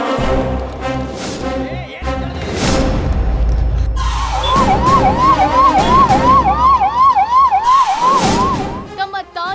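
An ambulance siren wails in a rapid rising-and-falling pattern, loud and close, after a stretch of rumbling traffic noise.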